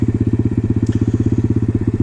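An Apollo RFZ 125cc four-stroke motorcycle engine idles nearby with a steady, rapid, lumpy thumping pulse and a faint mechanical rattle, alone and fairly loud for a short stretch.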